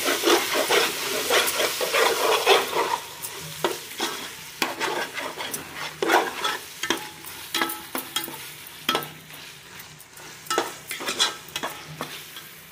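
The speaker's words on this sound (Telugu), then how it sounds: "ఇప్పుడు ఈ కొత్తిమీర కూడా వేసి వేయించుకున్నాము." Onion, ginger and coriander frying in a pan while being stirred, with repeated scraping strokes and sharp clicks of the utensil over a constant sizzle, close and fairly loud.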